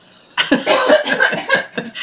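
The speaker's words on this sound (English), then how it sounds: "A little bit of a cough here." Someone coughs several times in a rough, breathy burst, close and fairly loud, with a brief pause before a final cough.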